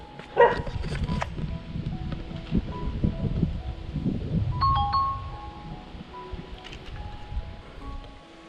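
A dog barks a few times early on amid outdoor rustling and wind in a flooded village, then the scene settles into steady ambient noise with faint sharp sounds.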